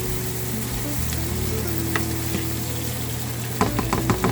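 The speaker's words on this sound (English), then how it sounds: "Let this fry for 2 minutes." A masala mixture with green onion sizzles steadily in a hot pan while cooking a Guyanese hassa curry. The frying hiss is loud and continuous, with a few clattering stir scrapes near the end.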